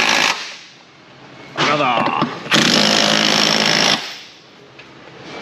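Impact wrench tightening rear subframe bolts on a 2007 Chevrolet Monte Carlo SS 5.3, loud rattling hammering bursts, a short one then a longer sustained burst, close to the mic, with a brief spoken word.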